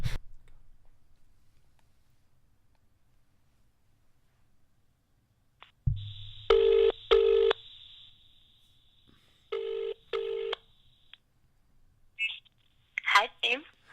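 A telephone rings on a call line in two distinct double-pulse bursts a few seconds apart, close and clear, followed by brief indistinct voices.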